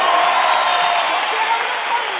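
A studio audience on the Colombian comedy show Perros Criollos gives loud, continuous applause mixed with cheering, a full, even crowd roar lasting the whole moment.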